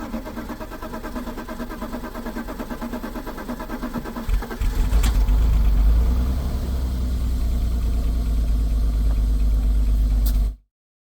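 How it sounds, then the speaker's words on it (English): A BMW E32 or E34 with a freshly replaced fuel pump cranks briefly and catches around the four-second mark, then settles into a steady, close idle that runs unbroken until the sound cuts off. "All that's left to do is see if the car will start."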